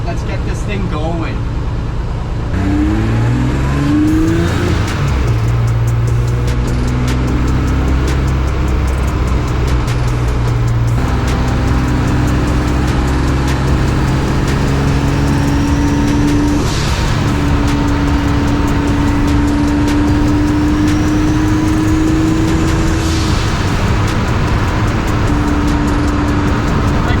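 A race car set up for a street run starts up and revs hard, its engine rising and falling through several loud accelerating sweeps close by, with a voice heard over it at times.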